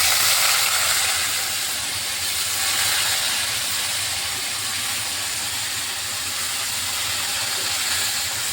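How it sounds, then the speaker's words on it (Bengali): A steady, loud hiss and sizzle of Gobindobhog rice frying in hot oil, continuing evenly throughout without pause. "এখন আমি এটা এ তেলের মধ্যে গোবিন্দ চালটা দিয়ে দিচ্ছি"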